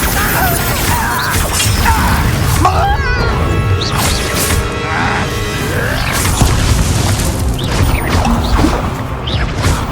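Spell impacts from the video game Hogwarts Legacy land as heavy booms and crashes over a continuous loud battle din, with whooshing bursts and clanks scattered across the stretch and no clear speech.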